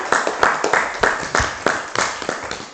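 A small group claps at the close of a teachers' positive-discipline discussion session, with distinct, fairly loud individual claps in a loose uneven rhythm rather than a dense roar.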